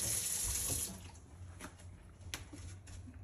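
Tap water runs over Swiss chard being rinsed at a kitchen sink, a steady splashing stream that is louder at first, then softens into lighter trickling and splashes.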